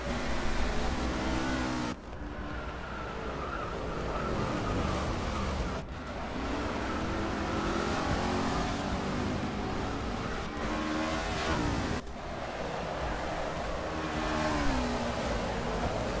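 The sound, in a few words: NASCAR race cars in Forza Motorsport 6 replay, video game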